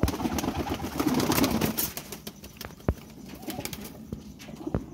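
Pigeons coo in a loft, soft low throaty calls with a few sharp clicks and wing or foot noises, moderately near and without speech.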